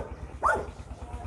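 A single dog bark at a farm, one short, moderately distant yelp rising briefly above a quiet background hum.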